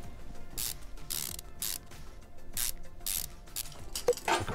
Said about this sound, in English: Let's bolt that on.